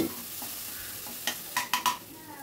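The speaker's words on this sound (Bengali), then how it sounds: "মিনিট খানিক একটু নাড়াচাড়া করে মুগ ডালটাকে একটু ভাজা ভাজা মতো করে নিচ্ছি" Mung dal is dry-fried and stirred in a pan, with a soft background crackle and a few louder scraping strokes of a spoon clustered toward the end.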